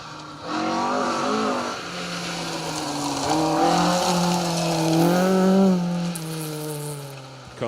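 A Ford Escort RS 1800 rally car on a forest stage of the Roger Albert Clark Rally roars past close and loud, engine pitch climbing and falling through gear changes as it passes.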